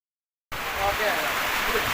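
Heavy rain pours down steadily outdoors, a dense, loud hiss that starts abruptly and keeps going without a break.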